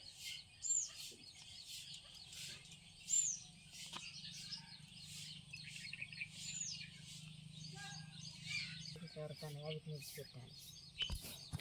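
Small chicks peep in high, thin chirps scattered through the clip, over a quiet background with occasional faint speech and clucking.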